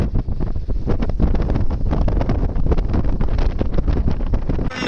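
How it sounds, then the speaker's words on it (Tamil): Strong wind at sea buffets the microphone in heavy, continuous gusts during rough-sea fishing, a loud roaring rush with a low rumble throughout. "ஆனால் காற்று சரியான காற்று"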